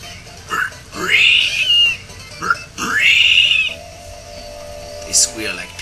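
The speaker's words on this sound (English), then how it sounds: "They squeal like piggies. Because they are piggies." Pig men squeal in the Mother 3 video game, giving several loud, rising high-pitched squeals in quick succession, separated by short gaps and a few quieter grunts.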